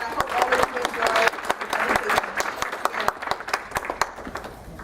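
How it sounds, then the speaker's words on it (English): An audience at a talk on Black masculinity claps for the arriving speaker, a busy burst of applause that tapers toward the end, with a voice faintly heard under the clapping. "So I just want to have all of us give a round of applause for Ryan coming here"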